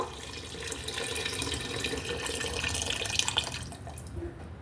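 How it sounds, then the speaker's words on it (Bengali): Water and milk poured into a pressure-cooker pot of egg biryani, a continuous gurgling, splashing stream at close range, fairly soft and steady throughout with no talking. "এরপর আমি পরিমাণ মতো পানি দিয়ে দেবো কিছুটা আমি দুধ দিয়ে দিচ্ছি আর বাকিটা আমি পানি দিব"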